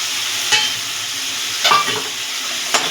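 Ginger and chili paste with cumin and turmeric being stirred into fried potatoes in a pan, giving three short scraping stirs over a steady low sizzle.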